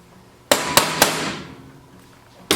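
Impact wrench hammering a left-hand-threaded part loose on a 1953 reel mower: three sharp, loud metallic bursts in quick succession, each ringing out briefly, then a quieter stretch and one more sharp hit at the end.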